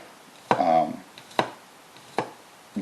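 A knife chops through garlic and onions on a cutting board, a few sharp separate knocks spaced about a second apart, close and distinct, with a brief voice-like sound after the first one.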